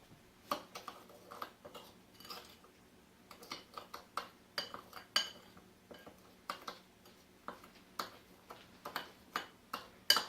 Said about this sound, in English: And then you are going to stir it.